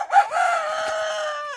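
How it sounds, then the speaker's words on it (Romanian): A young rooster, still between chick and hen stage and dark red in color, gives one loud, close crow that rises and then holds a long, steady note. "Cântă cocoșul."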